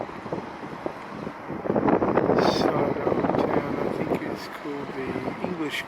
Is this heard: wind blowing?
yes